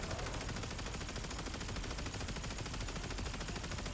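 Gunfire in the video game Warframe rattles in a dense, continuous stream at steady loudness, with no pauses and no talk.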